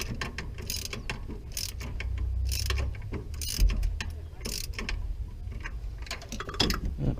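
A wrench tightens a nut onto a bolt on a Ford F250 steering shaft, giving close, repeated ratchet-like metallic clicks in uneven bursts over a low rumble.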